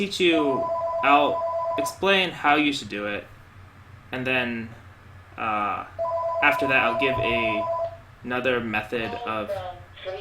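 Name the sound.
telephone ringing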